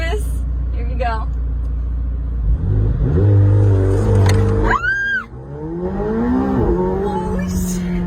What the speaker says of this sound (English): now I have to keep my right foot all the way down on the throttle